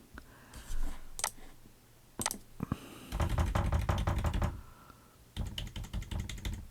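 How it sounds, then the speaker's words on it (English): Keys on a computer keyboard clatter in close, loud bursts of rapid typing separated by brief pauses, with a few isolated single keystrokes. "I'm using the keys on my keyboard."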